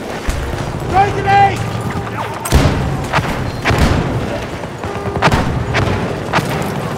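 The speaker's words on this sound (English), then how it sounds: "Grenade!" A grenade blast and gunfire in Battlefield 2042, a 64-player Conquest match: a heavy thud with scattered shots and booms, mixed under shouted voices and game chatter.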